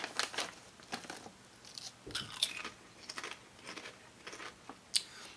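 Close, crisp crunching of cheeseburger-flavored potato chips being bitten and chewed, in repeated sharp bites and chews with faint bag crinkles between, quiet and alone without talk.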